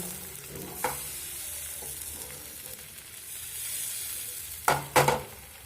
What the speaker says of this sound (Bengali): তেল ব্রাশ হয়ে গেলে দিয়ে দেব 1 চামচ পরিমাণ মতো বেটারটা দিয়ে একটু ঘুরিয়ে নেব।